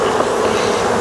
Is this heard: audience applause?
no